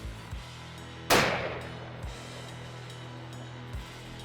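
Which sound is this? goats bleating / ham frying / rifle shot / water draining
rifle shot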